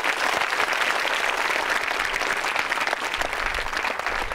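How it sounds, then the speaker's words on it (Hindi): A quiz show audience at a government women's engineering college in Ajmer breaks into steady, dense applause that holds for a few seconds with no speech over it. "जोरदार तालियां बजाइए"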